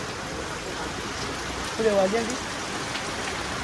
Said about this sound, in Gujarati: વરસાદ જોરદાર ચાલુ થઈ ગયો